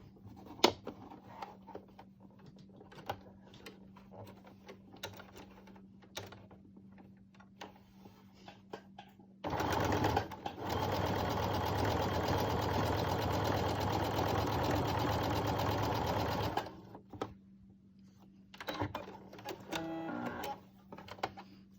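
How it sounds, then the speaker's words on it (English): A sewing machine runs in one loud, continuous burst of about seven seconds while stitching down the folded quarter-inch fabric edge of an Olson face mask, with quiet handling clicks before and after. "you fold it over just a 1/4 inch, and you sew it down"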